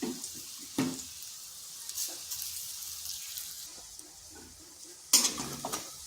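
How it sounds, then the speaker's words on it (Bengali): Vegetables for lau sukto fry quietly in oil with a soft, low sizzle, broken by a few sharp clinks and scrapes of a utensil against the pan. "এইভাবে সবগুলো ভেজে নিচ্ছি।"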